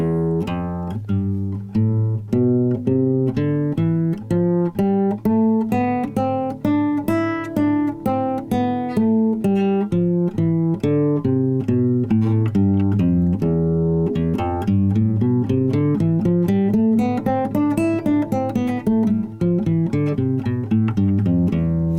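A guitar plays the E Phrygian scale note by note, climbing up and back down at an even pace, clear and close with no talking.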